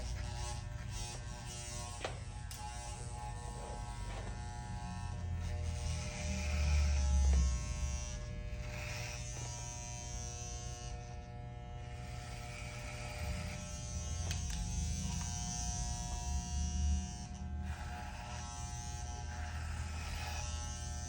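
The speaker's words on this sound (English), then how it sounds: "And yes, I do use corded clippers." Corded electric hair clippers buzz steadily and close up while cutting hair during a burst fade at a barbershop, the hum swelling and easing as the blades move through hair.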